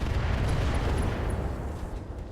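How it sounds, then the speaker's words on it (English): Long-range missiles fire and burst in the RogueTech mech combat game, a dense low rumbling barrage of launches and explosions that holds steady, then thins slightly near the end, heard alone. "Just fire some LRMs."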